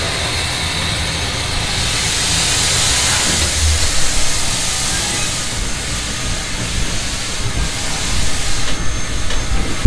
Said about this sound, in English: He's opening up a valve at the bottom of the boiler at the mud ring and releasing water and steam out to atmosphere